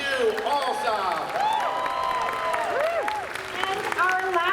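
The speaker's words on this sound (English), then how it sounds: "Round of applause for Robert Hugh Alsop." A convention audience at a Friday night costume contest applauds a newly introduced judge, steady clapping and scattered cheers filling the hall, with the announcer's amplified voice running over the crowd.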